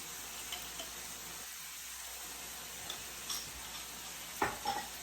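Stir fry with low sodium soy sauce and hoisin sauce cooking in a pan, a faint, steady sizzling hiss with a few soft utensil clinks and scrapes near the end, no speech.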